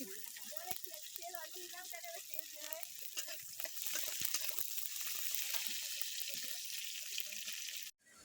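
Onions and garam masala fry in hot oil, a steady close sizzle with scattered crackles and utensil clicks running throughout.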